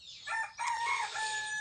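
A rooster crows once inside an aviary, a loud, hoarse two-part call, fairly close and alone.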